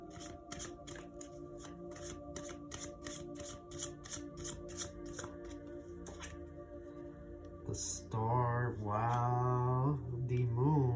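Tarot cards being shuffled by hand, a rapid, regular riffling flutter lasting several seconds, close and crisp, before a voice begins talking and overlaps a final shuffle.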